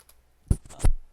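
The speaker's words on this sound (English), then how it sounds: "My fingers are not typing well today." Two sharp keystrokes on a computer keyboard, typed during a coding session, land close and distinct with short pauses around them. No voices are heard.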